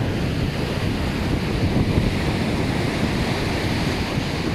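Ocean surf rolls onto a beach in Kuwait in a steady, loud roar, with heavy wind buffeting the microphone throughout and no voices.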